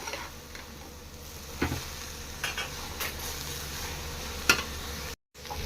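Grated bottle gourd fries dry in a pan for halwa with a soft, steady sizzle, broken by occasional light clicks and scrapes of stirring.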